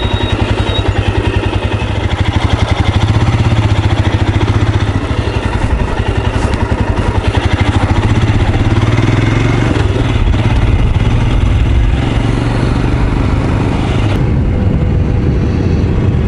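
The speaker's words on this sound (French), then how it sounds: "je sens que le moteur se libère petit à petit" A Royal Enfield Scram 411 motorcycle engine running off-road on sandy ground, a loud, steady, close thumping drone that holds throughout with slight shifts in pitch.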